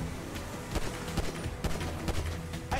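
Gunfire in the video game GTA V, a string of sharp, close shots every half second or so, punching through a steady rumble of background action.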